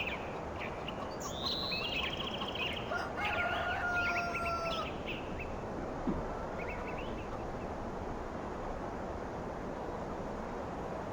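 Chickens at a chicken coop in the Farming Simulator 2013 video game, a rooster crowing and hens clucking softly over a steady hiss of background noise.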